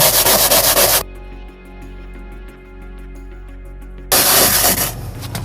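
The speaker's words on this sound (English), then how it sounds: "so anyway, scrub it in" A brush scrubs Simple Green cleaner into a boat's textured non-skid deck, loud close rapid rubbing strokes, then a pause of quieter background hum before the vigorous scrubbing resumes.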